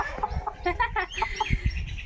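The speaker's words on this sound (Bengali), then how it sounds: "মুরগি নিয়ে মুরগি ধরে ফেলছি, নিজে নিজে ধরে ফেলছি" A Sonali chicken clucks in short, agitated bursts while being caught by hand, several squawks in quick succession, close and fairly loud.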